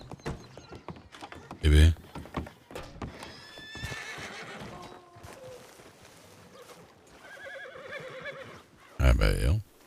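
Horses whinny loudly in two sharp bursts, near the start and end, with hoof clops in between, outside where a man has been kicked by a hoof; people talk throughout.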